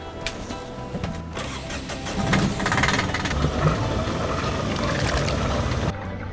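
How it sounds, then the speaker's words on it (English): The inboard engine of a 1980s sailboat, just put back in the water, cranks and catches, then settles into a loud, steady mechanical chugging close by that runs throughout before cutting off abruptly. "Start the engine?"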